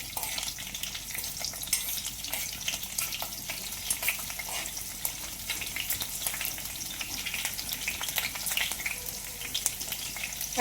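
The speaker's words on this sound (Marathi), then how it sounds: "तीन ते 4 हिरवी मिरची घेतलेली आहे बारीक चिरून, ती पण घालून घेऊया आणि याला छान परतून घेऊया" Finely chopped green chillies fry and are sautéed in a pan for paneer bhurji. A soft, continuous sizzle runs under repeated stirring strokes, fairly quiet and close, with no voices.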